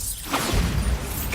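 A Bombarda blasting spell in Hogwarts Legacy: a dense, rumbling blast with whooshing and crashing textures, loud and close throughout a brief moment.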